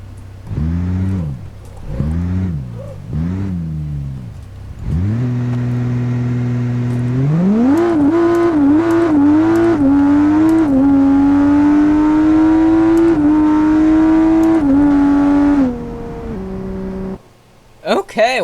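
A car engine in a BeamNG.drive video game drag race revs hard in short bursts, then holds a loud, rising drone through the gears before cutting off near the end.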